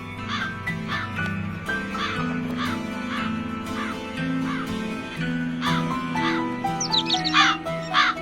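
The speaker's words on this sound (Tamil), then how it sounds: "காக்கா ரொம்ப நேரமா கத்திட்டு இருக்குல்ல" A crow caws repeatedly in a steady rhythm of harsh calls at close range, with other birds calling faintly behind and a brief cluster of higher chirps near the end.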